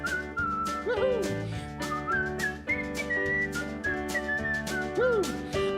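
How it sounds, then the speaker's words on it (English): A person whistles a lilting melody while walking, clear and close, with sliding notes and short phrases carried over a soft musical backdrop. "I whistle as I walk"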